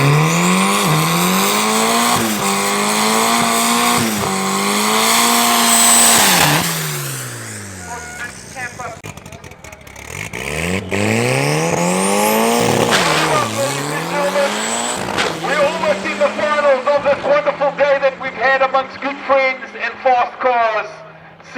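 Race cars at a club event at Tarlton International Raceway roar down the drag strip in repeated loud bursts, with engines climbing in pitch through the gears, tires squealing, a fading pass, a second run, and then rapid popping revs near the end.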